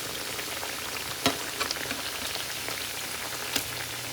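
Pitha fries in a pan with a dense, even crackle of hot oil close by. Occasional louder taps and clicks rise above it as the cakes are turned over.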